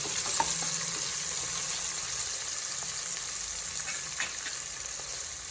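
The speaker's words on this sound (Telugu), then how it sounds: "ఆనియన్స్ చూసిండ్రా ఎలా ఫ్రై అయినాయో" Chopped onions sizzling and frying in a pan for a Kadaknath chicken curry, a continuous close hiss with occasional stirring scrapes, no voices.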